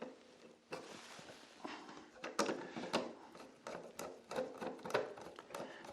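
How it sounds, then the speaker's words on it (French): Screws are driven tight into a plastic wall-liner fitting for a garden pond, giving a quick run of small clicks, ratcheting taps and handling knocks, close and fairly quiet, with no talking. "vous venez serrer vos vis dans le système"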